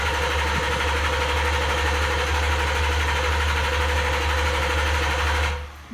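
A 2017 Lincoln Continental engine after a fuel injector change runs at a steady, close, even idle hum, then cuts off abruptly just before the end.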